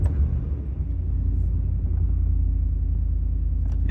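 A Ford F150 pickup truck's engine fires up and settles into a steady, loud, low idle rumble close by, with no talking.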